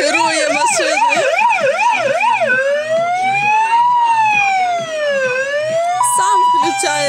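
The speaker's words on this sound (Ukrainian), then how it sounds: "вже в поліцейській машині включає сирени, мигалки" A police car siren is switched on, wailing loudly and close in fast rising-and-falling cycles before changing to slower sweeps, with a brief tone change near the end.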